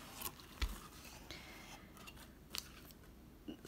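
A blade slices through the bottom of a packaging box during an unboxing of a Lady Falcon traveler's notebook and leather goods: a few brief, close, crisp cutting scratches spread across a quiet scene, with no talk.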